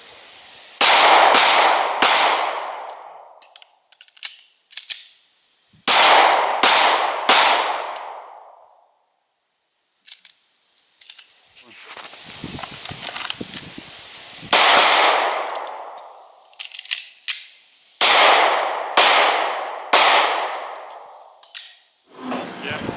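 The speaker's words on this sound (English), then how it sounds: "So we're gonna go ahead and let Jonathan go first, and then I'll shoot next" Rifle shots fired outdoors on an Ohio hunting farm ring out in three loud clusters of several cracks each, every report trailing a short echoing decay, with quieter gaps between the groups.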